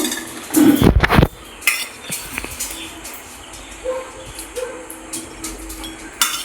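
Dishes and cutlery clink as fried potatoes and okra are plated, with a loud clatter near the start, then scattered light taps and scrapes at close range.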